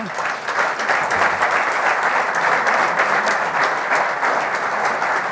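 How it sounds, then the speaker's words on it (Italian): Steady, dense applause from an audience at a sales workshop, loud and continuous throughout with no pause. "vogliamo fare un applauso a Virginia Gambino cortesemente?"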